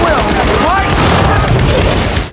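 A war-film barrage of gunfire rains on a tank: dense, loud overlapping bursts and booms form a continuous roaring volley that cuts off abruptly at the end.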